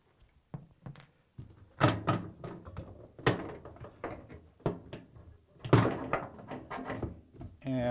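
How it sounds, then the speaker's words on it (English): The front-panel door of a Samsung washing machine is handled and shut during a tub seal repair, several close, loud thunks and clunks spaced irregularly over the stretch, with no talking. "And close the door"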